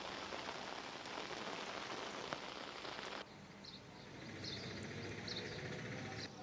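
Heavy downpour of rain during flooding in Haryana, India, a dense steady hiss of rain on surfaces throughout, loud and continuous with a slight change in texture midway.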